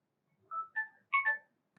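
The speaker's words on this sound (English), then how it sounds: "just select the ringtone which you prefer" A short Samsung Galaxy S26 alarm ringtone of a few bright, chiming electronic notes plays quietly and alone, then stops.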